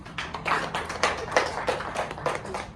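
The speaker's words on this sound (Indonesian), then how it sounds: "Terima kasih Mesya, tepuk tangan." A small classroom group claps by hand, with a quick, uneven patter of claps carrying on steadily and close by, and no talking.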